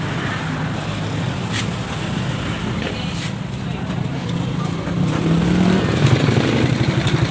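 A Kymco Visa 110 scooter engine, kick-started, idles steadily with a low, even putter, growing slightly louder toward the end, set against outdoor wind noise.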